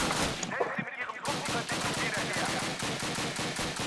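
Rapid video game gunfire during a dam mission speed run, dense bursts of close, sharp shots in quick succession, steady and loud throughout.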